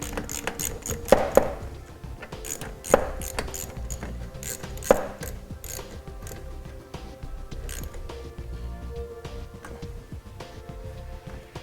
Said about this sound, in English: We'll go ahead and tighten down our connection using a 3/8 deep well socket.